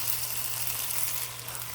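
Hot dogs fry in a cast iron pan with a steady, dense sizzle, close and even throughout, and no voices.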